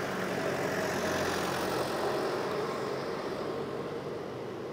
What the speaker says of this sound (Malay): Lori ni bising.